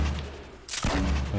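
Gunfire in the video game Fortnite: a loud sudden burst about two-thirds of the way in that stays dense and sustained to the end, with a faint stretch of game noise before it.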